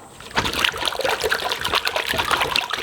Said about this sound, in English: Now we whisk together vigorously the flax and the water and egg mixture